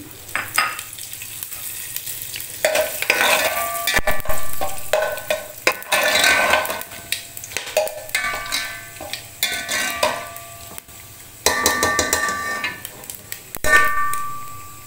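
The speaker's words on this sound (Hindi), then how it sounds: "देगची में हमने हाफ़ कप ऑयल पहले ही से डालकर गरम कर लिया। इसमें हम ये साबुत गरम मसाला डालेंगे।" Whole garam masala sizzling in half a cup of hot oil in a pot, bursts of crackling and hissing fry with intermittent clinks and scrapes of a utensil, close and fairly loud with short quieter gaps.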